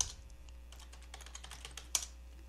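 Quiet typing on a computer keyboard, a quick irregular run of soft key clicks with one sharper tap near the end, close and alone.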